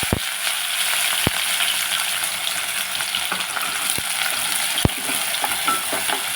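Onions and green chillies hitting hot oil in a pan for a potato and raw mango curry, a constant loud hiss with a few sharp clicks and taps of a utensil, close up and without speech.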